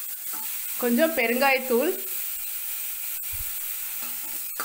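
Ground paste frying in a pan, a steady, moderately loud sizzle running throughout, with a brief spoken remark near the start.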